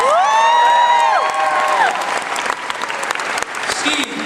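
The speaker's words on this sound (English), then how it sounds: "give yourself a round of applause" A Comic-Con panel crowd applauds loudly with cheers and whoops, high shouts rising over dense clapping that continues throughout.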